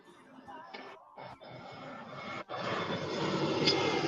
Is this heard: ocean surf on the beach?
no